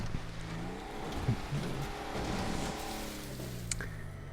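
An off-road truck in the Grand Theft Auto V racing game drives with a continuous engine drone whose pitch rises and falls as it accelerates, with a brief thump and scrape partway through.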